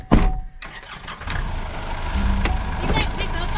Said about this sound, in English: I guess I'll move the truck out of the way